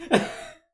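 A single short cough, fairly close and moderately loud, with a brief rough burst that trails off quickly.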